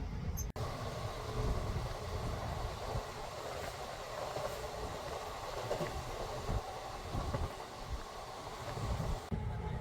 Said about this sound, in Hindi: अब हमारी ट्रेन आ गई